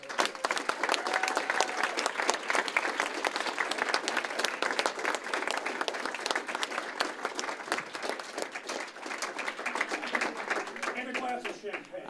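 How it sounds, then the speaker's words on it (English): Applause from the LA Times newsroom, dense and continuous clapping from a large group indoors that holds steady throughout, with a few voices faintly audible underneath. "So give yourself a round of applause."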